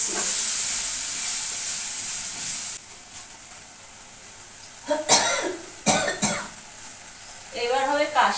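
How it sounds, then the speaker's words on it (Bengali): A person coughs in a kitchen during cooking: a loud steady hiss and sizzle fades out, then a few sharp, separate coughs follow, and a voice speaks near the end. "এবার হবে কাশি"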